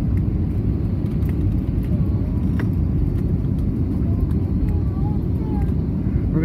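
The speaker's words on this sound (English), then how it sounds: "We're gonna touch the ground any second now." Steady, loud low-frequency roar of a Frontier airliner's cabin during final approach into San Juan's SJU International Airport, a continuous engine and air rumble with faint voices occasionally under it.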